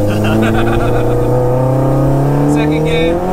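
A Vauxhall Astra VXR with a tuned, roughly 703 bhp engine revs hard and accelerates, its steady rising harmonic drone loud and close from inside the car, with someone talking over it throughout.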